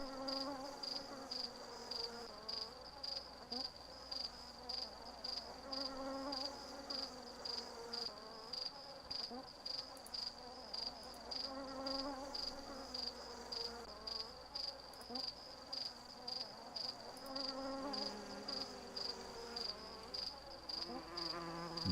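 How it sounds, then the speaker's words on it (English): Mosquitoes in the 1994 DOS adventure game Dragon Lore whine and buzz continuously in a looping insect drone, steady and moderately faint, with no talking. "The sound of these mosquitoes is gonna drive me crazy."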